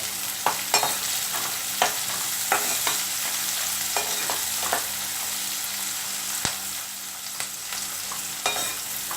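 Capsicum and onion with a little salt fry in a pan, a steady close sizzle with scattered light clicks of a spatula stirring through the vegetables, no voices.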